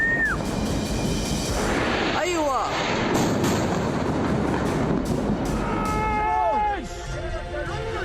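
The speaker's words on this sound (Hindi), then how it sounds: "हिजबुल्लाह के गढ़ पर दिन में बमबारी।" Continuous rumbling blasts and booms from daytime bombing of Hezbollah strongholds in Lebanon, dense and loud throughout with no clean gaps, in a war setting.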